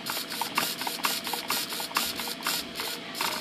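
Turnigy TS-900 metal gear servo running close up, giving a quiet, ratcheting mechanical whir in quick, evenly repeated pulses with no talk.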